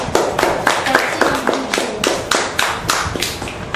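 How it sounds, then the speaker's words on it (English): A small audience at a Toastmasters club meeting claps in a steady, close burst of individual hand claps lasting a few seconds, with no talking over it. "A warm round of applause for"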